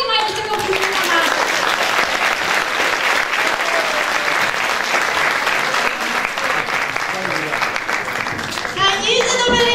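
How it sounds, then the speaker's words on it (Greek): Enthusiastic audience applause greets the winner of a contest during a carnival stage revue, with dense clapping filling the room continuously and voices heard briefly at the start and end. "Χειροκρότημα για την Τσιριγκοπούλα μας"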